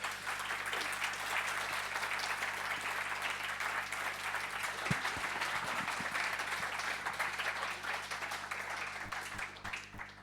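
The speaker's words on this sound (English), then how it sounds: "A round of applause." An audience applauds after a conference talk at a Haskell event, dense sustained clapping from a sizeable crowd in a hall, even and moderately loud for about ten seconds before tapering off.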